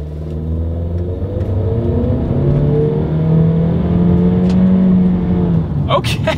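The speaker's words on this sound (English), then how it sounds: "let's see how quickly we can get this new 2021 Honda CR-V here up to speed" A 2021 Honda CR-V SUV engine revs hard and climbs in pitch as it accelerates, a loud, sustained rising drone with a few clicks at the end.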